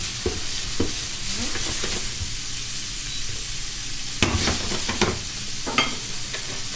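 Bacon frying in a pan, a steady close sizzle with occasional stirring and scraping clatters.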